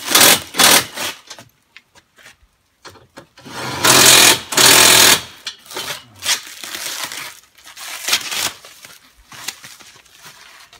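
A power tool gun running bolts into the replacement roll cage of a salvaged Polaris RZR 1000S, heard as close, loud, whirring bursts of a few seconds each, separated by short pauses and quieter clatter.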